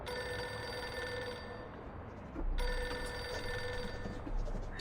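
A telephone bell rings continuously in a video game, with a bright, steady metallic tone over a background hum, growing slightly louder partway through.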